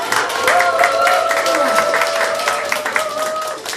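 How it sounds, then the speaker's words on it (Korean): Applause at a church founding thanksgiving service as a pastor comes up to give words of encouragement, a dense, steady clapping from the congregation with a voice talking over it. "박수 많이 주십시오."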